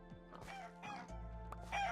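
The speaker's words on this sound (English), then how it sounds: "Here, my rooster's going off." A rooster in a farming video game crows and clucks in short, choppy bursts over a steady background hum, fairly quiet and heard alone.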